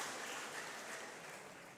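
A church congregation applauds, a faint, steady hiss of many hands clapping together, distant and uniform for a short stretch with no voices over it.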